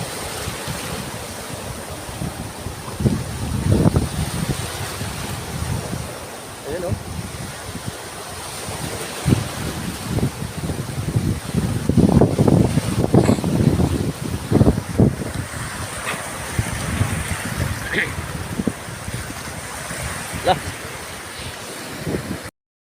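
Big ocean waves off Burias island in stormy weather surge and crash again and again, with strong wind buffeting the microphone throughout.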